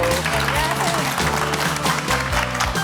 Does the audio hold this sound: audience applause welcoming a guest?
yes